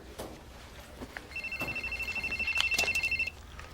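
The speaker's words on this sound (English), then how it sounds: "Your cell phone. It's ringing." A cell phone rings with a rapid, pulsing electronic trill lasting about two seconds, moderately loud indoors, with faint background noise around it.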